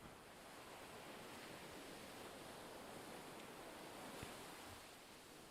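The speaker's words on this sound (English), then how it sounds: "And then this ocean sounds in the background." Ocean waves at a beach make a soft, continuous broadband wash, faint and distant, with no voices over it.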